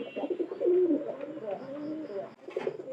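A pigeon coos close by in a low, throaty rolling call, repeated a few times over about three seconds, with faint background noise.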